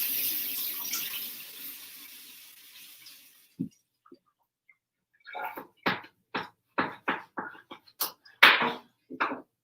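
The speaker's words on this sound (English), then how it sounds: "I'm just going to rinse it off, actually." Tap water running over a beet in a kitchen sink, a steady splashing stream that fades and stops, followed by a series of sharp clunks and knocks nearby, no talk.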